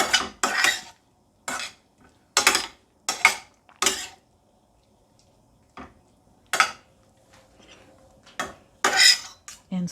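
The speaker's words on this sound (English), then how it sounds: "And then we'll just mash up the miso into that cooking sake" A utensil clinks and scrapes against a pot in short, separate bursts with quiet gaps between them, as miso is mashed into cooking sake.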